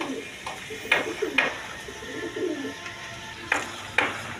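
Indian Bombay pigeons kept for sale cooing softly in low, rolling phrases, mixed with occasional sharp clinks and a voice talking nearby.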